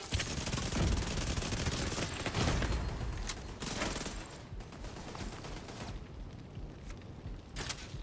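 A video game turret fires in a rapid continuous burst, dense and steady, then tapers into scattered softer shots, all heard at moderate level with no voices over it.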